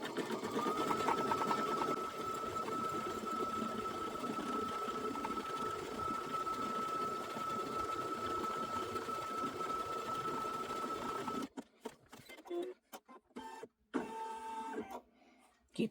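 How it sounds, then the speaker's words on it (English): An embroidery machine runs a quick tacking stitch, a steady, close mechanical whir with a fast needle rhythm that stops abruptly, leaving scattered clicks and handling sounds. "it's going to go all the way around with a quick tacking stitch"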